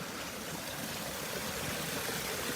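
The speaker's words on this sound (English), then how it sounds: "let me take you through the falls" A small backyard waterfall spills over rocks into a pond, a steady close rushing and splashing of water with no other sounds.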